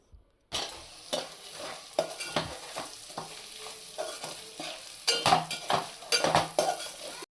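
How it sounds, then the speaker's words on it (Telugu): Pre-boiled chicken being stirred through a pan of non-veg mixed fried rice: close, repeated spatula scrapes and clatters over a steady sizzle, with louder stirring strokes near the end. "ముందుగానే ఉడకపెట్టుకున్న చికెన్ అయితే వేసుకొని బాగా తిప్పుకోవాలి"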